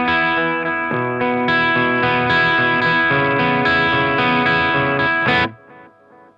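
Electric guitar run through a Holy Era tap tempo delay pedal with the delay volume at its quietest audible setting; sustained distorted chords ring out steadily with faint repeats trailing after the playing stops.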